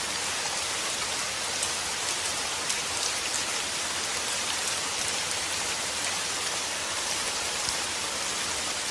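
Heavy rain falls steadily in a cartoon, a dense and even hiss of drops with no pauses, loud and close throughout.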